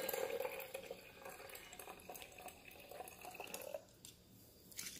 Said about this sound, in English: Now add the rest of your water.